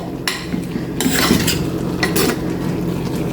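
A spoon scrapes and clatters against a pot while sweet pulissery with jaggery syrup is stirred, a series of close, bright metallic strokes over a low bubbling background.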